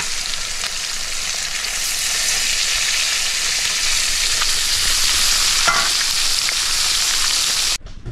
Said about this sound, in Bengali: মাছ ভাজা কিন্তু একেবারে কমপ্লিট।